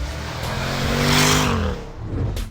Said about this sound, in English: The 542 bhp 5-litre V8 petrol engine sounds magnificent in full flow